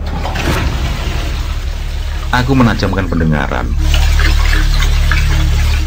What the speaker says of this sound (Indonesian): Air keran di kamar mandi itu memang mengalir.